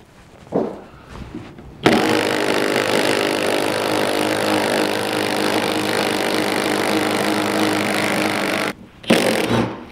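A drill with a small bit whines steadily and loudly for several seconds, boring continuously through a garage wall before stopping, with brief handling noises before and after.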